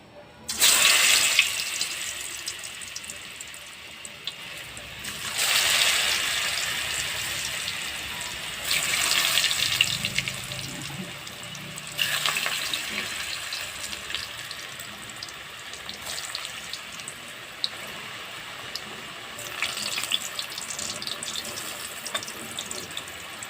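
Taro pieces frying in a pan for a Bengali taro and eggplant curry, giving a steady, close hiss that swells in several surges over the whole stretch, with no talking.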